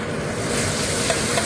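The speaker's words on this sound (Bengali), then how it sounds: "রসুনটা একটু লাল লাল ভাজা হয়ে যাবে" Garlic sizzles in hot refined white oil with onion paste while being stirred, a steady loud frying hiss with scraping stir sounds close up.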